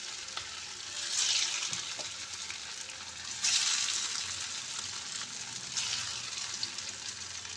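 Chira and egg snack pieces fry in hot oil, a steady close sizzle that surges into louder crackling bursts as each piece goes into the pan.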